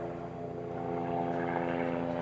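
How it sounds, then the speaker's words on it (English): A helicopter passing overhead gives a steady, droning rotor and engine hum, moderately distant and unbroken, with no talk over it. "there's a helicopter flying over"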